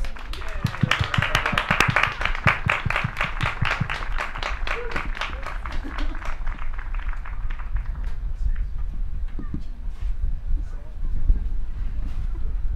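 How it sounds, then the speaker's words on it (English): Concert audience at an outdoor park concert claps in a dense burst of applause that swells then thins into scattered claps and murmuring crowd noise. "Let's give her one more round of applause"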